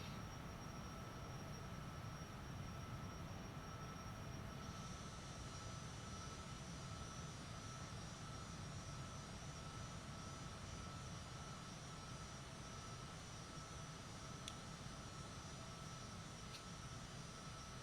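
Cessna aircraft engine in Microsoft Flight Simulator 2020 drones in a steady, faint hum with no other sounds.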